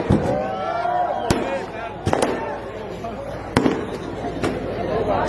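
Firecrackers crack in sharp, loud bursts at scattered intervals during an outdoor political rally, standing out over a steady bed of crowd chatter and noise.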